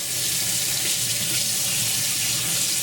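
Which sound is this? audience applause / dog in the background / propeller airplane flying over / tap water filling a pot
tap water filling a pot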